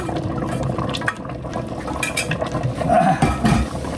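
Hot tadka (tempering) poured over cooked Lahori chana, a close, steady sizzle and liquid splash with light clinks of a metal utensil against the pot, no talking.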